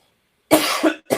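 A few harsh coughs burst out close and loud after a moment of silence, a pair in quick succession followed by another brief cough.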